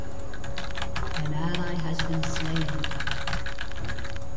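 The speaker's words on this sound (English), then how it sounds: "I'm slamming my keys and I can hear them clicking" Computer keyboard keys clack rapidly and hard while gaming in League of Legends, a dense run of close clicks mixed with game sounds and a voice talking over them.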